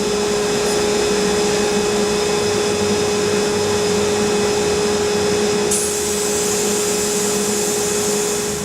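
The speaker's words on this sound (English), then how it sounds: "I need to sandblast those forks because they're nasty." Sandblaster working on motorcycle fork legs from a 1979 Kawasaki KZ650 bobber build, a loud steady hiss of blasted air and grit with a constant whine, close and continuous throughout, with a brief shift in the hiss partway through.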